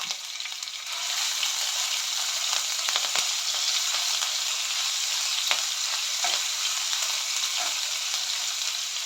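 Onions frying with ginger garlic paste and curry leaves for pesarattu curry, a bright continuous sizzle that swells after a quieter first second, broken by occasional stirring scrapes, close with no talk.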